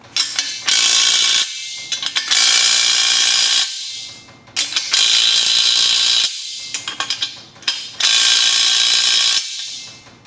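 Ratchet wrench tightening bolts on a VEVOR 1322 lb transmission jack: three long bursts of rapid, loud clicking, each followed by a few short separate clicks, with brief pauses between.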